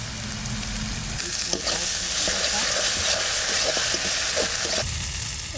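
Onion and chili frying in a pan, a loud continuous sizzle and hiss with faint stirring clinks, the steady crackle swelling as ingredients go in.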